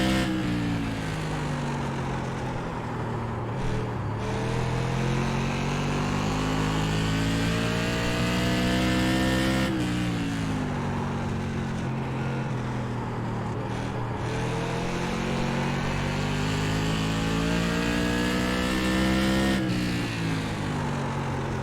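A NASCAR Tour Modified race car engine at Stafford Motor Speedway in the iRacing sim, loud and continuous, its pitch rising and falling through laps with brief drops off throttle, no voices.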